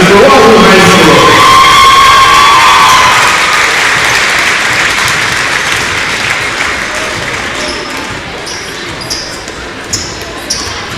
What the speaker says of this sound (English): Fans, let's give all these seniors a big round of applause for their 4 years of effort for Wahoo High School.